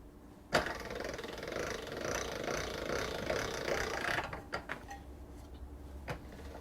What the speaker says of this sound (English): you can see what happens to this pasta as you keep rolling it through the machine